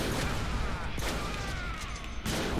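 Shotgun blasts and gunfire ring out in the Deadpool video game, a busy, steady barrage of overlapping shots with a few sharper bursts standing out.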